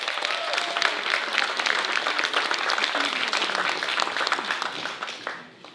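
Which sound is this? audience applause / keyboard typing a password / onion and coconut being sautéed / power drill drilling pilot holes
audience applause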